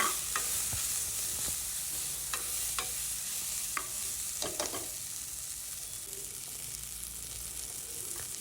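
Coriander fries in a pan for a homemade fish curry, giving a soft steady sizzle broken by scattered scraping clicks from a spoon stirring. Nearby and fairly quiet.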